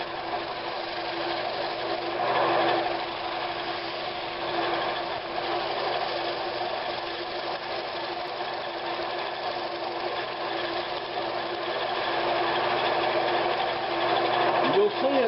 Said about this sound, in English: I'm gonna sand this thing and see if this works.